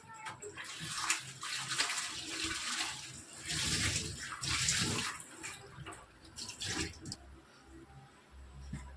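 Halved potatoes are washed in water, with splashing, swirling and trickling sounds that rise and fall close by for several seconds.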